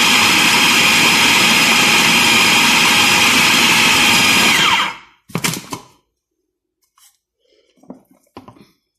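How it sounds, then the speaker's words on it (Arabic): A food grinder loudly grinds corn kofta in a steady, continuous whir that cuts off abruptly, followed by a few short clatters and faint handling noises. "انا دلوقتي طحنت الكفته"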